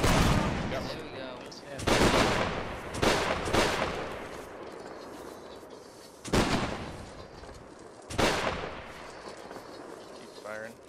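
Musket volleys from massed soldiers in a Napoleonic Wars game battle, Prussian against Royal army, a handful of loud crashing volleys a second or two apart that decay into rumble, with voices talking between them.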